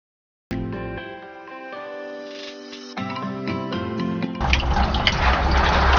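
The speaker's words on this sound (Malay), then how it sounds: "Kita test masukkan air dulu." Water gushes and splashes as it is poured in to test a newly installed water pump, with a steady tonal hum running under the filling and the flow growing louder and more turbulent near the end.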